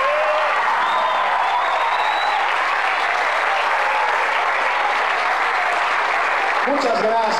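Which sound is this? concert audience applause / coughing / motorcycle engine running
concert audience applause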